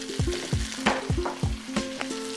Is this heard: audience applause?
no